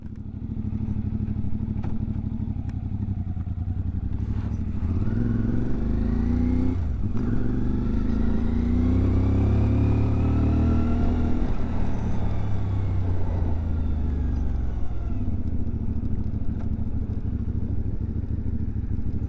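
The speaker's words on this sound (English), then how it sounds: "once we start this bike" A motorcycle fitted with a smart-bike setup runs loud and close, its engine rumbling steadily with a rising and falling rev sweep in the middle, nearly twenty seconds of continuous low-heavy engine noise.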